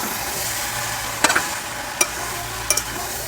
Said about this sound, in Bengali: মশলার মধ্যে আদা কাঁচা লঙ্কা বাটা ধনে গুঁড়ো জিরে গুঁড়ো লঙ্কা গুঁড়ো হলুদ গুঁড়ো দিয়ে দেব দিয়ে মশলাটাকে আমি ভালো করে ভেজে নেব